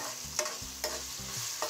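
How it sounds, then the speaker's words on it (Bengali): Spices and ginger-garlic paste fry in a pot for mutton paya, a soft sizzle broken by three or four sharp scrapes of the stirring spoon, with no talking. "মশলাগুলো দেওয়ার পর আবারও আমি সব কিছু নেড়ে দিচ্ছি"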